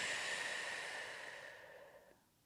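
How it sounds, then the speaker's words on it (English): Slow breath during a grounding yoga flow, a long soft airy exhale that fades out gradually, close and quiet with no talking. "Breathe in and out."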